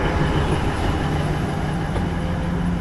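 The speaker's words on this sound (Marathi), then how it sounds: "ट्रेन फक्त दोन मिनटं थांबली आणि परत रवाना झालेली आहे अमृतसरच्या दिशेने" A passenger train pulls out of a station toward Amritsar, heard as a loud, steady rolling rumble of wheels and carriages with no break and no voices.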